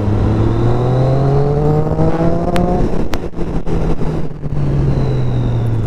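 A Triumph Street Triple 675 RX three-cylinder motorcycle engine revs and pulls hard, its pitch climbing steadily through acceleration, loud and close with rushing wind, and a brief dip before the engine picks up again.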